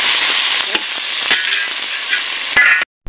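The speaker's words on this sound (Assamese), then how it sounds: "এতিয়া ঔটেঙাখিনি ধুনীয়াকৈ অকণমান সময় ভাজি ল'ম" Pieces of elephant apple (outenga) fry in a pan with a loud, steady sizzle and a few sharp crackles and stirring knocks, then the sound cuts off abruptly.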